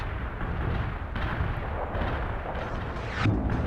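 An artillery barrage in the video game World in Conflict rumbles on continuously, with heavy low booms and blasts layered over one another and a sharper impact near the end, and no speech.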